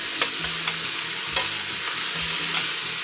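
Shallots and sugar stir-fried in a pan as the base for homemade Thai-style tomato sauce, with a steady sizzle under repeated scraping stirs of the spatula, close and moderately loud, no talking.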